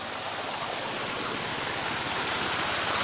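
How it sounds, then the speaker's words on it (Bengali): Water pumped by a motor rushes steadily along a channel into a farm field, a constant loud, broadband gushing with no pauses. "এই যে জল যাচ্ছে"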